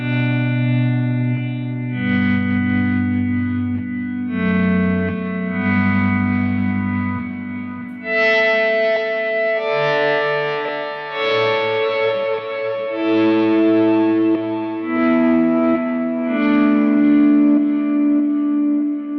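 An electric guitar played through the auto-swell effect of a Donner Arena 2000 multi-effects unit, notes and chords fading in smoothly with a soft attack, lightly distorted and washed with echo, in a slow melodic line with no talking.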